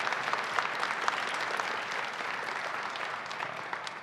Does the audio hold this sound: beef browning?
no